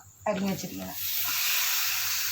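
Chopped bilimbi tipped into hot fried masala for a pickle sets off a loud, close sizzle that builds after a short spoken phrase and hisses steadily to the end.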